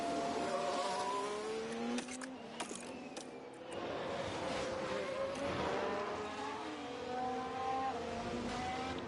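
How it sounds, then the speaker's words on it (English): Formula 1 race cars at Lusail in the PS5 game F1 Manager 24, several engines whining and shifting pitch as they pass, layered continuous racing noise with a brief dip midway. "We lost sight of Hamilton's car there"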